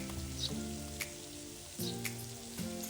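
Tomatoes go into a little oil for an Agri-style curry and fry with a steady, soft sizzle, while a few sharper clinks and bursts break through over a low tonal backdrop.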